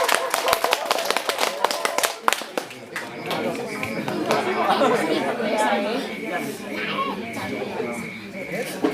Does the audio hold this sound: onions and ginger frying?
no